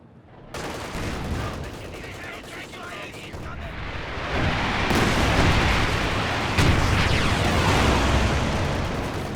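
Anti-tank air strike run on a medium tank in the Company of Heroes 2 video game, dense overlapping gunfire and explosions rising into a loud sustained barrage with sharp impacts throughout.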